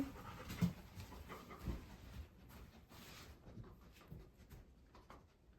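A dog pants quickly and rhythmically close by as it sniffs around indoors during a scent-work class. The sound is faint, with soft breathy puffs and a few small shuffles, and no one speaks.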